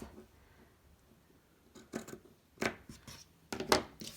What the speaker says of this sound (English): I'm going to just cut away the last little fringy piece that I have on all 4 of my napkins